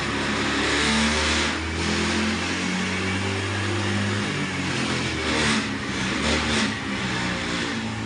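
A Honda Dio scooter with a starting fault revs its engine up close, a steady mid-pitched drone that swells and eases over about eight seconds with no talk.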